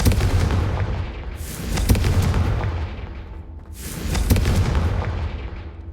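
Two heavy fiery blasts of the Confringo spell boom in Hogwarts Legacy, each a loud burst that fades slowly over a low rumble, about two and a half seconds apart, with no speech.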